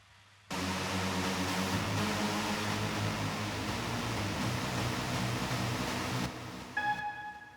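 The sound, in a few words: Alchemy Trance Lead Designer synth swarm preset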